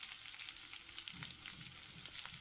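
Onion sizzles and crackles steadily in hot oil in a frying pan over high heat, with occasional stirring or scraping sounds close by, no voices.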